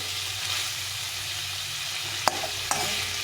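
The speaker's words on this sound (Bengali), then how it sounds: "এখন কিছুক্ষণ ধরে কষিয়ে নিতে হবে" Chickpeas and papaya sauté with spices in a pan under a steady, moderate sizzle, with two sharp stirring scrapes near the end and no voices.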